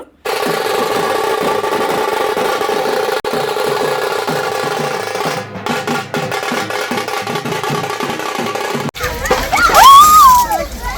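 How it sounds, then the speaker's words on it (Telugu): Water is poured and splashed onto a person at a wedding event in Bangkok, with loud sloshing and splattering close by under a lively crowd of voices, ending in a burst of shouting. "మొత్తం నీళ్ళంతా నా మీద పోయిస్తున్నారు"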